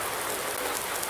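Rain falls in the farming game Farming Simulator 19, a dense, even hiss of steady rainfall that fills the brief moment on its own without any voice.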